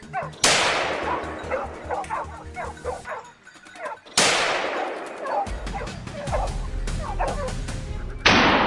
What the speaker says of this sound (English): The barking of hunting dogs echoed across the distant forest, and Finn immediately bolted